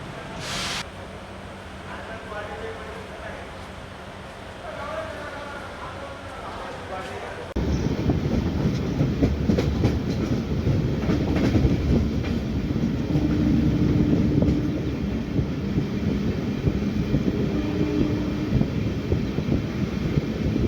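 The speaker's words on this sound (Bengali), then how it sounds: "ফাইনালি এখন আমাদের ট্রেন ভুবনেশ্বর এসে পৌঁছালো" A passenger train runs on the rails toward Bhubaneswar, Odisha, with a steady loud rumble and rattle that starts abruptly partway through, after a quieter stretch with muffled background noise.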